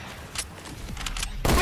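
A heavy sniper rifle fires in the Fortnite video game, a sudden loud broadband blast near the end after scattered softer game sounds and quiet talk.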